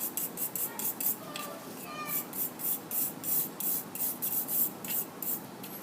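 A brush scrubs rust from the gas holes of a five-burner Brinkmann BBQ grill burner in quick, close, bristly strokes, a rhythmic scratching that repeats steadily, with faint talk at times.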